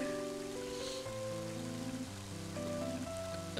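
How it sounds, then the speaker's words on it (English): Rain in the video game Mother 3 falls as a soft, steady hiss running beneath the game's looping melodic music, faint and unbroken throughout. "And now it's starting to rain."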